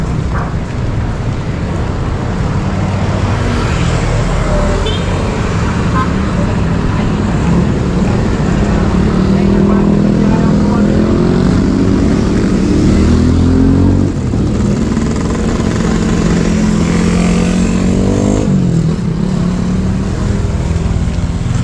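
Motorcycle riding along a road that is closed to cars, its engine droning steadily and fairly close throughout with shifting pitch as it moves, no talk over it.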